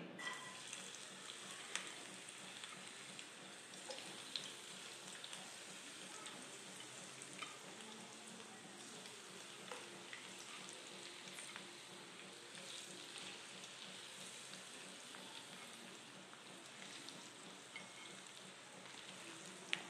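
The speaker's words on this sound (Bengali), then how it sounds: "এতে আমি সর্ষে তেল দিয়েছি। এবারে মাছগুলো ছেড়ে দেব।" Prawns frying in hot mustard oil for a Bengali prawn malai curry, a soft continuous sizzle and spatter heard quietly at a distance without speech.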